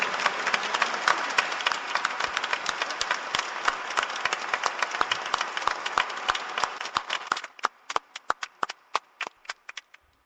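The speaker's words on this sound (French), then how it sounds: "je crois qu'on pourrait applaudir aussi bien fort Patrick pour l'énergie qu'il nous donne." An audience applauds at a church installation ceremony. Sustained, dense clapping holds for about seven seconds, then breaks into a few scattered individual claps that fade out.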